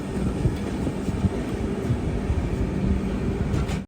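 A train bound for Kerala, heading out from the Okha area, rolls past nearby with a steady loud rumble and faint rhythmic wheel clatter, ending suddenly, with no talk.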